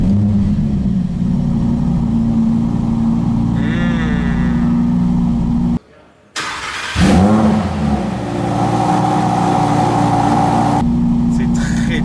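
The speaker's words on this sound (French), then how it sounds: "On nous a autorisé à démarrer l'auto" An Audi R8 GT with a V10 and rear-wheel drive idles loudly nearby, falls silent briefly, then fires up with a sharp roar and revs before settling. People talk over parts of it.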